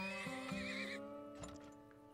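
A horse neighs in the video game Turmoil, a loud, close whinny with a wavering pitch lasting about a second, followed by a few softer snorts and hoof-like clip-clops.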